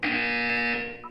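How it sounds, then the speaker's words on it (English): A buzzer from the video game Portal 2 sounds as one loud, sustained electronic tone that holds steady for about a second, then fades and breaks off. "You will hear a buzzer."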